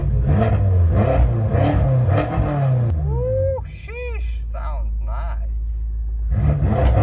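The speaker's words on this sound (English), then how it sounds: "see if we can rev it up a little bit" A BMW M6 engine with downpipes and a check engine light on revs loudly, throaty rumbles rising and falling, then settles into a deep idle while a person briefly whoops nearby.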